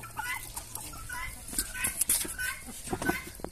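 Chickens cluck and squawk nearby in an excited, irregular burst, with bright sharp calls overlapping rustling and movement in a yard.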